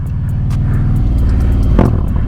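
A 2024 Harley-Davidson CVO Road Glide 25th anniversary motorcycle engine, a loud close low throbbing rumble with a steady pulsing beat that lifts briefly as the throttle opens.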